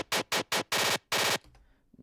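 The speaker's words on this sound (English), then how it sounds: "Down here, we just got some kind of like gunshot clicks." A rapid series of sharp, bursty gunshot-like click samples in an electronic music track, a few short hits then two longer bursts, loud and dry before a faint tail.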